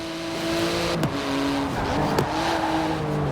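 A 3.8-litre twin-turbo flat-six with 700 horsepower, in a carbon-fibre car in the Forza Horizon 4 racing game, drones steadily and loudly, with two quick gear shifts breaking the engine note along the way.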